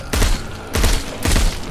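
Automatic pistol fire in the zombie VR game Arizona Sunshine, three sharp, loud bursts spaced about half a second apart, each a rapid cluster of shots, with no voices.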